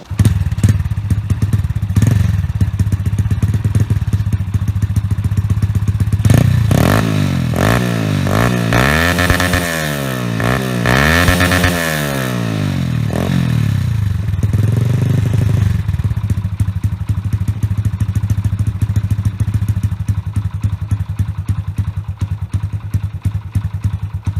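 A Honda Nice 100 motorcycle engine idles with a loud, rapid throb, then revs up and down repeatedly in rising and falling bursts before settling back to a rumbling idle.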